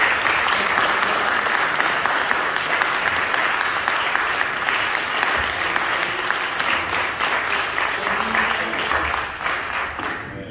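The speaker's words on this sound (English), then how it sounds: "I want you to stand, and I want you all to clap for him, because it's time to appreciate our brother" A church congregation applauding, with sustained dense clapping from many hands that stays loud throughout and fades slightly toward the end.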